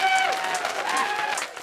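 Spectators at a professional women's doubles pickleball match applauding a rally, steady crowd clapping with a commentator talking over it.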